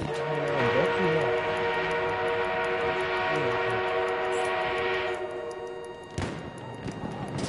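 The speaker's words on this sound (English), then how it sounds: "We have an armored train on route." Armored train approaching in the WWI shooter Battlefield 1, a sustained steady rumble with tonal whistle-like harmonics, loud and continuous, fading briefly before a fresh burst near the end, with voices over the top.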